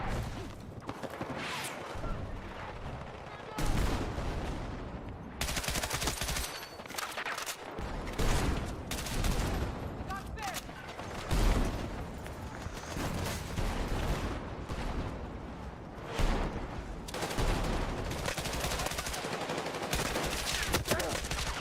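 Battlefield 6 gunfire: repeated close bursts of rifle and machine-gun fire with sharp individual shots, steady and loud throughout a chaotic multiplayer firefight, with faint voices in the background.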